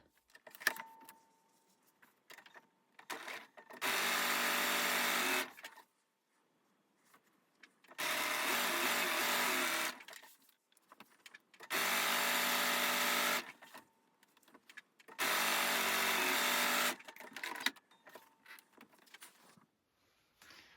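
Sewing machine stitching fabric pieces for a quilt block, running in four steady bursts of about two seconds each, with quiet handling sounds in the pauses between them.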